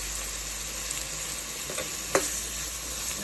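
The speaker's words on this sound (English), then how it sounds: "My potatoes and curry to fry." Potatoes and curry frying in a little oil in a pot, a steady soft sizzle running throughout with a faint clink partway through, no voices.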